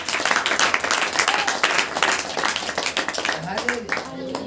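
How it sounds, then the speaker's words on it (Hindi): Members of a church congregation clap together at a Saturday worship meeting, a dense and steady round of applause with a voice speaking over it toward the end. "ताली बजाकर परमेश्वर को"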